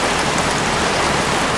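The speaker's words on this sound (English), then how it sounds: "Jeez, won't this rain ever let up?" Rain pouring in the video game Heavy Rain, a dense, loud, steady hiss of falling water with no voices over it.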